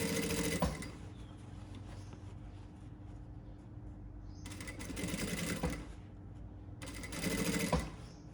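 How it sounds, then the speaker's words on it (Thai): A sewing machine stitching a shirt sleeve into the body of the shirt, running close in three louder bursts of rapid stitching with a quieter steady hum between them. "เย็บไปนิดนึงก็ยกเพื่อจะให้ตีนผีตรงเนี้ยมันสามารถกดได้"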